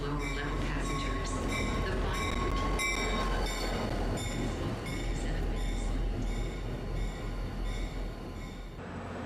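Passenger train at Secaucus Junction, continuous loud rumble of railcars rolling through with rhythmic clicking and high wheel squeal tones, heavy low-frequency drone throughout.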